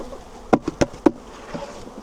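A swarm of bees is knocked from frames into a wooden box, giving three or four sharp hollow thumps over a soft steady buzz, close by and without speech.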